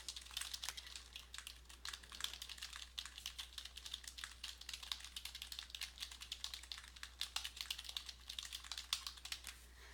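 Rapid typing on a computer keyboard while writing a review comment in Word, a steady stream of close, crisp key clicks for the full ten seconds with no talk.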